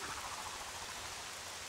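Steady rain falling over the Hyrule Castle courtyard in Zelda Twilight Princess HD, a constant soft hiss filling the whole clip with a low rumble underneath, no voices.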